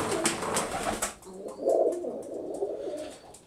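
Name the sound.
pigeons cooing in a pigeon loft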